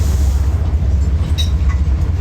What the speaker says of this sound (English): And here we are. On the train.